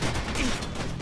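Sustained gunfire from the action shooter Stranglehold, a dense continuous barrage of shots filling the whole moment at steady loudness with no clear gaps.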